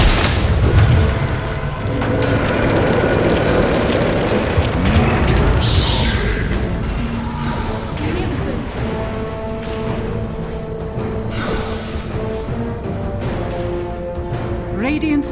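Battle noise from a Dota 2 match as a tower comes under attack: dense, continuous booms, blasts and crashes with layered game effects throughout, and a voice occasionally heard in the mix.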